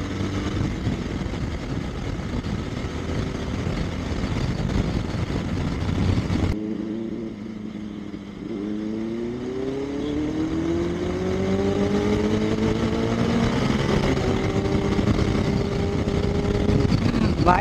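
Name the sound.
Benelli 600i and Dominar 400 motorcycle exhaust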